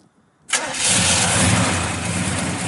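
A 1967 Chevrolet Chevelle SS 396 with an aluminum intake, Holley carburetor and ceramic coated headers fires up. It catches abruptly after a brief silence and settles into a loud, steady, rumbling idle close by.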